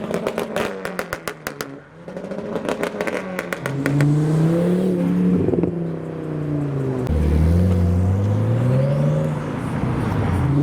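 A Volkswagen Scirocco pulls away from a nighttime car meet, its engine revving up through rising gear pitches and droning loudly nearby, after a clattery start with sharp clicks.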